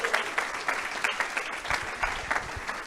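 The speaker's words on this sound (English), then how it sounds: "Ed Poland, give him a round of applause." Audience applause at a senior community meeting, a moderate roomful of clapping with uneven bursts that rise and fall over a steady wash of hands, fairly close and without talk.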